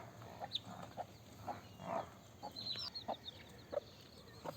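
Bhimavaram-breed country hens and chicks kept in a coop give scattered soft clucks and short peeps over a faint steady background hiss, with no talking.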